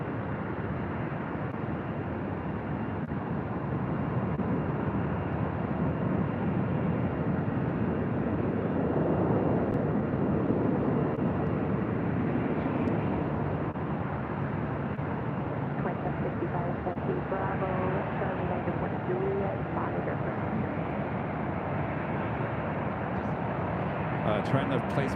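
An airplane on a flight from SFO comes in to land at PHX, a faint, distant broad roar that swells and then fades. Someone talks over it.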